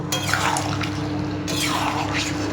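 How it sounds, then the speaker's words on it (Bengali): A little hot water poured into a cooking pot of chicken and potatoes, a steady close splashing trickle running continuously for a couple of seconds, with a faint background hum underneath. "এবার একটু অল্প গরম জল দেব"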